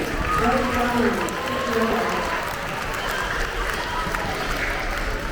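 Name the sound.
audience cheering and applauding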